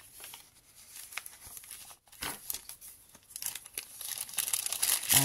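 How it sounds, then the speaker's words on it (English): Crisp, crunchy crinkling of stiff coffee-dyed greaseproof paper being handled up close, rustling continuously and growing louder toward the end. "This is greaseproof paper"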